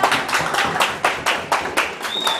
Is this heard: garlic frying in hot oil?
no